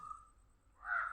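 A crow caws twice, a short call early on and then a louder, longer caw toward the end, both close and clear, with nothing else heard.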